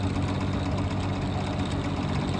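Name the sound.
vintage box fan running on high speed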